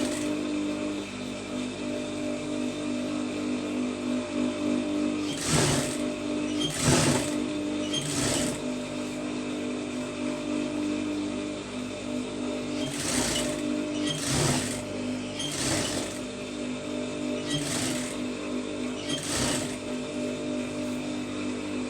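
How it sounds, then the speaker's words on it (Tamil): A sewing machine stitches fabric with a steady mechanical whir. Several short, sharp bursts of louder clatter break in at intervals, and no one speaks. "மடிச்சுட்டு கரெக்டாக நீட்டாக அதில் வச்சு ஒரே மாதிரி வந்து தையல் அடிச்சுட்டு வந்துடுங்க"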